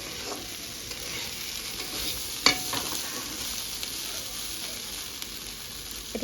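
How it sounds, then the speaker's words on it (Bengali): Bitter gourd fries in a wok, a faint, even sizzle with one sharp metallic clank of a utensil partway through and a few light scrapes. "ও রান্না করছে গরুর মাংস আর উচ্ছে ভাজা"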